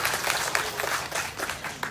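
Brief burst of applause from an outdoor political gathering of the Pheu Chart party in Bangkok, dense clapping from a crowd with no voices over it.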